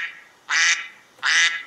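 A duck-quack push notification tone set through the PushTone iPhone tweak sounds twice, each quack short, bright and close, separated by brief silence.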